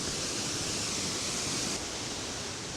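Ohko Falls on Yakushima, a waterfall with an 88 m drop, roars as a dense, constant wash of falling water heard from near the plunge pool, loud and unbroken throughout.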